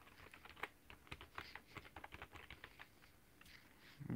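Keys clatter on a computer keyboard as an account name is typed, a quick run of close, crisp clicks with uneven rhythm and no talking.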